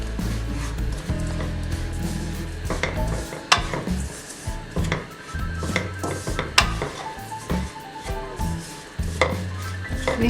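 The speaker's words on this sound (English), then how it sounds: "now we'll add our coconut powder into it and we'll stir it on a very medium flame" Coconut powder being stirred in a pan over a medium flame while making coconut laddoo: irregular scraping and tapping strokes of a spoon against the pan, close and fairly loud, with no talking.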